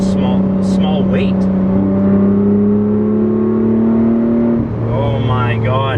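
A 2010 Lotus Evora sports car engine roars up close, its pitch climbing steadily as it accelerates hard, then dipping briefly before pulling again.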